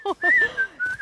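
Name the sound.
whistling, cartoon character learning to whistle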